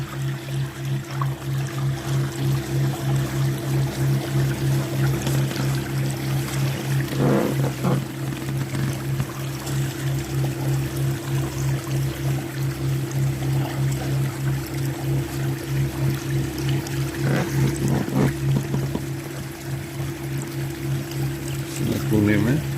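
An outboard motor drives an Aqua Marina boat across the water, humming in a steady, close, tonal drone throughout, with a few brief splashing bursts rising above the engine.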